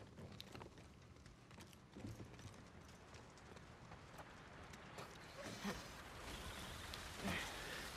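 Light rain falls in The Last of Us Part II, a faint, steady patter with scattered drip taps and a few soft footstep-like knocks, quiet and continuous.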